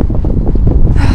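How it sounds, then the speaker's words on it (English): Loud gusty wind buffets the microphone in heavy rumbling bursts, close and overwhelming. "as it's pretty windy you probably won't be able to hear me"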